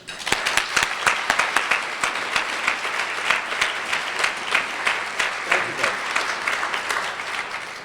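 An audience at a City Club of Portland gathering applauds steadily to welcome storyteller Charlie Chin, with dense, sustained clapping from a room of people at an even level throughout and no speech over it.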